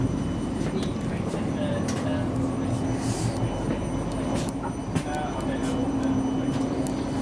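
A South Western Railway train rolls between Sunningdale and Virginia Water, heard from inside as a steady low rumble with rhythmic rattles and clicks of the carriage, with faint voices in the background.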